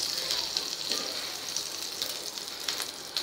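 Dabeli pav toasts in butter on a hot griddle (tawa), making a soft, continuous sizzle with a few small crackles and pops nearby.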